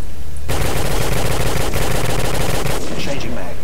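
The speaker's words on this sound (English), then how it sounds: "there's people shooting at us" Rapid automatic gunfire from Modern Warfare 2 Special Operations, loud and continuous for several seconds, dense bursts of shots layered over each other with no clear pauses.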